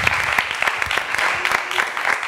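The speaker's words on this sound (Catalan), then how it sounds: "Amb un aplaudiment." A studio audience at a televised contest show applauds continuously, a dense, steady wash of clapping at full volume.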